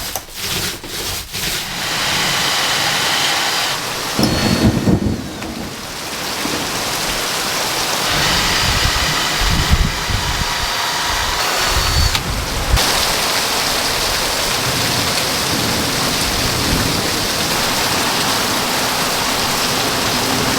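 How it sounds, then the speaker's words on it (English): Dense, loud hiss of heavy rain pouring steadily, with occasional thumps and rustling nearby, no voices. "It has been raining so much lately"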